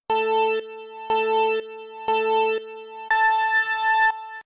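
An electronic school bell ringtone sounds four times in an even pattern, three matching half-second tones then a longer, brighter final one, loud and clean with no voices.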